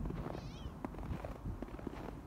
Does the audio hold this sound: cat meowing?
yes